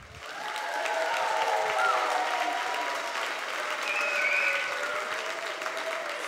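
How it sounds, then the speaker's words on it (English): An audience at a dance recital applauds the dancers with full, sustained clapping and a few faint cheers, swelling and then holding steady. "let's give them one more round of applause"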